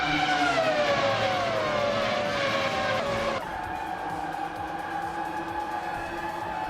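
Race cars in a racing video game, a classic Ferrari F1 2000 among them, launch off the line with loud, dense engine roar and rising gear-change whines, shifting abruptly to a steadier engine drone midway.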